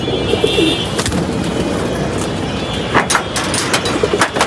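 A silver pigeon coos in soft, low repeated calls, close by, over a busy background of other birds chirping and occasional sharp clicks.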